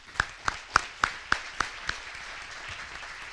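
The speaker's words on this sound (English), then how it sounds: "so I do want to give them a round of applause." About seven sharp, evenly spaced claps ring out at a high school sports awards ceremony, then fade into quiet room noise; sparse and fairly distant rather than a full ovation.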